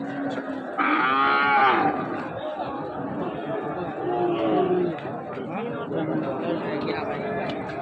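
Cattle at the Ambari cattle market low out in a loud, drawn moo of about a second, standing out over a steady background of crowd chatter and nearby talk among traders and buyers.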